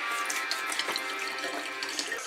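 A celery stick is washed under a running kitchen tap, the water splashing and hissing steadily and close throughout.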